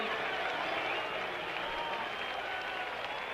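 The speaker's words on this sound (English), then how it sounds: "as we listen to the crowd reaction" A stadium crowd at the 1977 MLB All-Star Game in New York cheers and applauds for pinch hitter Pete Rose, a dense, steady roar of clapping and voices filling the whole stretch.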